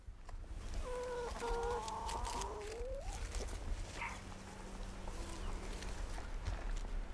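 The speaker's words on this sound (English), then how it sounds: "Hey chickens." Chickens at a rural property cluck and call in short bursts, with a dog or two barking now and then over a steady low background hum.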